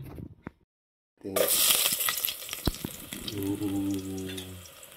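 Garlic hits hot oil in a pan after a moment of silence, bursting into a bright, loud sizzle that settles into steady frying with a few clinks, close by.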